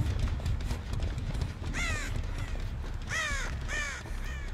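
Crows caw in the video game Dead by Daylight, harsh descending calls in a few groups of two or three, fairly loud over a dull rumbling game ambience with footsteps.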